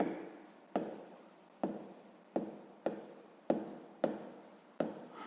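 A pen writes numbers by hand on paper in a quiet room, eight or so sharp scratchy strokes arriving at a steady rhythm, each stroke starting hard and then trailing off, close and soft.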